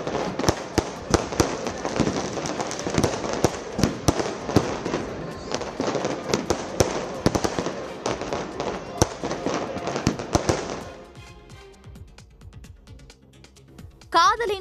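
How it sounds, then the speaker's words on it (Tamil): Fireworks display above the Golden Temple, a dense rapid string of sharp bangs and crackles over a steady roar for about ten seconds, then tapering to sparse pops with a voice speaking over them. "தகதகவென மிளிர்ந்த பொற்கோவில் பின்னணியில் நடத்தப்பட்ட வான வேடிக்கை வானில் வர்ணஜாலம் காட்டியது"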